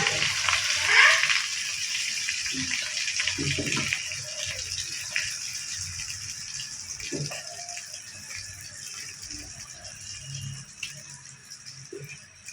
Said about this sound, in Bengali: দ্বিতীয় পিঠাটার প্রক্রিয়া চলছে তেলের মধ্যে দেওয়া হলো